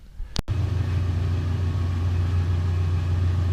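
A Monarch clutch lathe engaging after a sharp clunk, then running with a steady low mechanical hum and rumble while parting off a metal tool, close and loud.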